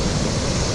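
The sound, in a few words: ocean waves on a beach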